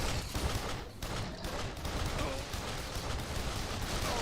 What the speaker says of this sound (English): Someone's shooting at me from back there.